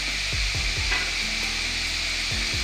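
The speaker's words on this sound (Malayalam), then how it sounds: "ഇളക്കി കൊടുക്കാം" Salted food is stirred in a hot frying pan while cutlet mixture cooks, a steady loud sizzle with soft scraping strokes of the spoon, close up and without talk.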